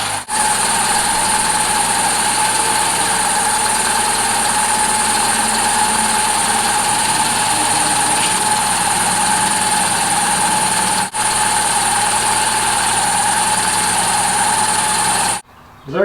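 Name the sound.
2005 Hyundai Accent engine running with a replaced power steering pump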